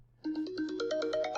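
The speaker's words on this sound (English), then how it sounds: "Sorry, I have a phone call." A phone ringtone for an incoming call plays a bright, rising electronic melody of quick repeated notes, clear and moderately loud with nothing else over it.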